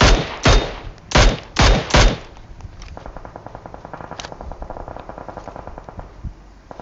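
Gunfire in a battle royale video game: five loud, spaced heavy shots up close, followed by a long, fainter rattle of rapid automatic fire in the distance.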